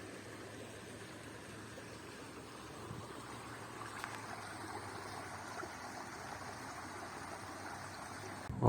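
A creek in Ontario, Canada flows steadily nearby, a constant rushing and trickling of water with no voices.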